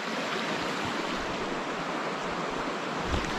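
A creek in Western Montana national forest rushes steadily, a dense, continuous wash of flowing water close by with no pauses and no voices.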